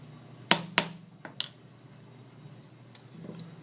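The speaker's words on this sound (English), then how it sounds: "use the flat surface on the anvil along with the soft hammer to slowly pound and re-flatten areas of the metal." A soft hammer pounds sheet metal flat on an anvil, giving two sharp close strikes followed by lighter taps and a few faint clinks with quiet gaps between.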